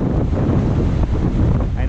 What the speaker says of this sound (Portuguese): 32 nós de vento, o mar cresceu pra caramba.